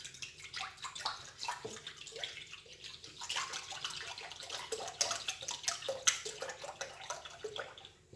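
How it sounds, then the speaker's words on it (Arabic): A liter of milk poured into a pot, heard as a soft, uneven splashing and gurgling stream of liquid with small drips, fairly quiet and alone. "كنوضعوا لتر حليب"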